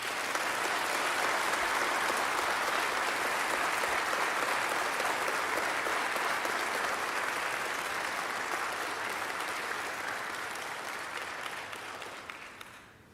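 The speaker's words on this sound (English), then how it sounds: "Let's go ahead and give all the cadets another round of applause." A crowd at a fire academy graduation ceremony applauds the cadets, sustained loud clapping from many people that holds steady for several seconds before tapering off at the end.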